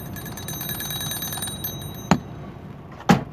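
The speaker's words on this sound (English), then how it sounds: "And the timer comes out." A kitchen timer alarm rings with rapid repeated high beeps for about a second and a half, then two sharp separate clicks or dings follow a second apart, close and fairly loud.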